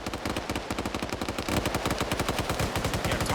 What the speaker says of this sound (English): Tarnfolk mag dumping up where Navy is, because that's where the previous guy was.